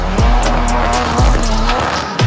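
A Ford Fiesta rally car driven hard in a gymkhana run, loud engine revving with rising pitch sweeps and sharp tire squeals, close and intense throughout.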